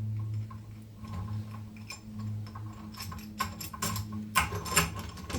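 A cheap eBay puller is fitted onto an MG half shaft held in a vise, giving faint metallic ticks and clicks from the tool over a low background hum, growing more frequent and louder toward the end.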